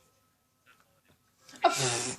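A single loud sneeze from a person in an online choir class bursts out near the end, following a brief quiet spoken remark and faint breathing.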